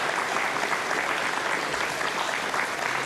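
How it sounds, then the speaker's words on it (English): Applause in the Ariane launch control room after payload separation on the Ariane 44LP V110 mission carrying PAS 7: thick, continuous clapping from a roomful of people, loud and unbroken. "You can hear the applause, I'm sure"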